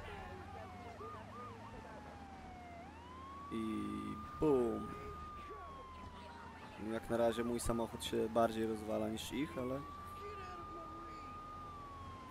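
Police sirens wail and sweep up and down as they chase a car in the video game GTA III, joined by bursts of crash noise. Someone talks over the game sounds throughout.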